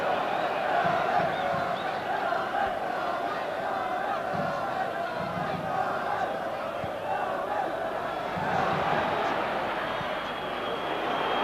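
A large football stadium crowd at a Manchester United versus Galatasaray UEFA Champions League match, a steady broad roar of fans that swells slightly in places and stays loud throughout.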